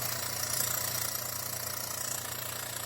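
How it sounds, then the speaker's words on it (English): A tankless airbrush air compressor runs alone with a steady, even motor hum and buzz, holding constant loudness with no pauses or talk. "So this is just the compressor itself."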